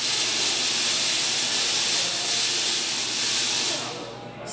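A Tesla coil discharging at Griffith Observatory in Los Angeles, giving off a loud, steady hissing, crackling roar that holds for about four seconds and then cuts off abruptly.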